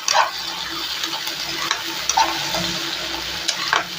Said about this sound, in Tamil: தக்காளியை போட்டு நல்லா வதக்கிக்கலாம்